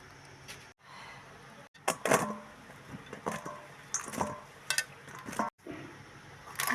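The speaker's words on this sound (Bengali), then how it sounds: "আমি মশলাটা সবটাই বেটে নিচ্ছি আগে।" Grinding a spice paste of garam masala, tomato and ginger by hand, giving irregular scraping and knocking strokes at close range, with brief pauses between them.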